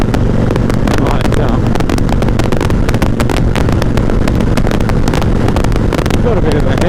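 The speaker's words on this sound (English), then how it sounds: "got a bit of a headwind going actually." Loud, buffeting headwind roar while riding a 1988 Harley-Davidson Heritage Softail with sidecar, gusting wind noise swamping the microphone over the motorcycle's engine drone for the whole stretch.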